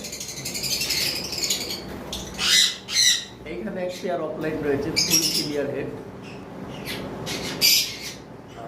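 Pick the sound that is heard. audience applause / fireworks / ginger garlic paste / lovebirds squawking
lovebirds squawking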